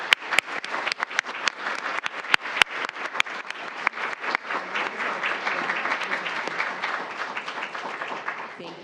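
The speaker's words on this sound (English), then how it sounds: "let's give our student ambassadors this evening a round of applause" A school board meeting audience applauds student ambassadors, starting with a few sharp, close claps and swelling into steady, moderate applause that fades slightly toward the end.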